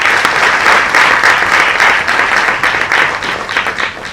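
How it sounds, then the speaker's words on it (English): Audience applause at an official government event, a sustained, even roar of many hands clapping in a large room, loud and continuous throughout with no talk over it. "Let's give His Excellency a round of applause."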